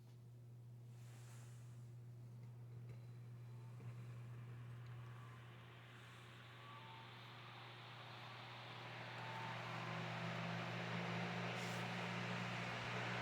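An antique Emerson electric fan runs on its low setting with a steady motor hum and soft airy whoosh that builds slightly toward the end, no one talking.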